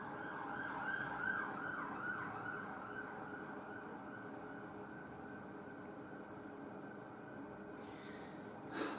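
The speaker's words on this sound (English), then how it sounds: "And there's the sirens." Emergency vehicle sirens wail outside a pub, a faint, sustained warbling over low room rumble that fades gradually, with a brief noise burst near the end.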